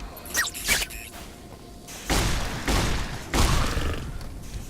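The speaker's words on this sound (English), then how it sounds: "Man, shotguns are the best." Shotgun blasts in the video game Fallout: New Vegas: a couple of sharp shots early, then three heavy booming discharges roughly a second apart, each trailing off with a rumbling tail.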